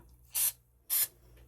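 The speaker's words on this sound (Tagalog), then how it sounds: "spray it with the cooking oil." Cooking oil spray aimed onto a baking tray, two short, even hissing bursts about half a second apart, close and distinct over a quiet background.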